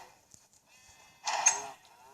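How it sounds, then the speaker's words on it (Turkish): Minecraft sheep gives a single short bleat partway through, faint and close, after a few soft clicks in an otherwise quiet game scene. "Burada koyunlarımız sayısı azalmış."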